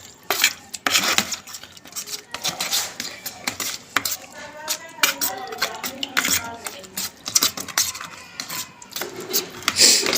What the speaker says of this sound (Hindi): और अब हम इसको हिलाएंगे जी।